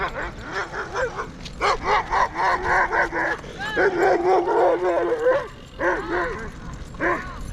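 A dog barks and yips repeatedly outdoors along a trail, a steady run of sharp, fairly close barks with brief whimpering notes between bursts.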